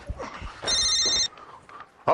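A telephone bell rings in one loud burst of about half a second, with faint room sounds before and after and no talk over the ring.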